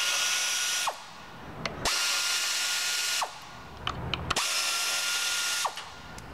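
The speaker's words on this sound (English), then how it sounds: "So we'll take those screws off there." A power drill whirs in three bursts of about a second each to back screws out of an intake manifold actuator, with short quiet gaps and faint clicks between them, close and alone.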